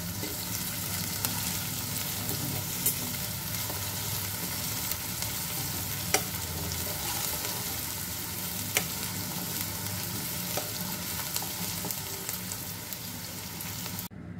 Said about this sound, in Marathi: कांदा आपण व्यवस्थित फ्राय करून घेऊया